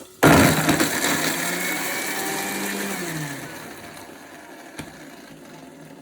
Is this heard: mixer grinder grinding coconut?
yes